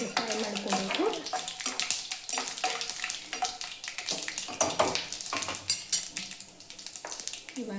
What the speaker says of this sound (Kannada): ಇವಾಗ ಸ್ವಲ್ಪ ಶೇಂಗಾನ ನೀಟಾಗಿ ಫ್ರೈ ಮಾಡ್ಕೋಬೇಕು.